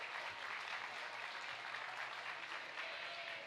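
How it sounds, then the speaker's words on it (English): Applause from the audience at a sheep show, a steady, even wash of many hands clapping throughout, fairly distant and moderately quiet, with no voices standing out. "Let's give these Pee-wees a nice round of applause."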